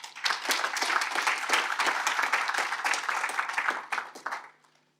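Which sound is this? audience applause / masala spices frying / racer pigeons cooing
audience applause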